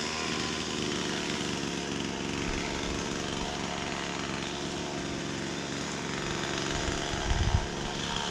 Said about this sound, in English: That little saw's really rev happy, and the port timing on it's stock.